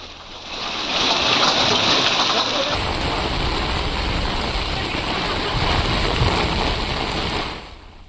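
Floodwater rushes across the Gangotri highway near Badethi in Uttarkashi after rain, a loud, steady broadband roar of gushing water that swells in within a second and holds constant before fading.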